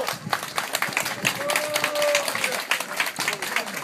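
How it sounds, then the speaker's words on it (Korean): Audience clapping at a summer-night beach concert by a wind-band alumni group, steady scattered claps filling the space with a few voices and faint tones mixed in. "박수 한번 부탁합니다"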